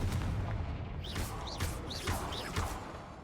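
A fire spell blast in Hogwarts Legacy erupts in a series of four loud booming bursts about half a second apart, each with a rising whoosh, over steady game ambience.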